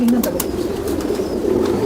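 Pigeons coo softly and repeatedly close by, low throaty warbling with a few faint clicks in the background.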